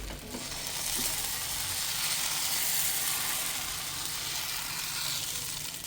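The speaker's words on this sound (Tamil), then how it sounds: "நம்ம ஆப்ப மாவு எடுத்து ஒரு கரண்டி எடுத்து இப்படி ஊற்றிக்கலாம். இப்படி ஊற்றிட்டு இப்படி சுற்றணும்." Appam batter poured and swirled in a hot appam pan gives a steady, close, loud sizzling hiss that swells slightly and holds evenly throughout.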